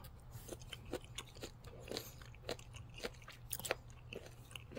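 Close, quiet bites and chewing on a hard, crunchy piece of Australian greenlip abalone, with irregular crisp crunches and soft mastication repeating over a low steady hum, no talking.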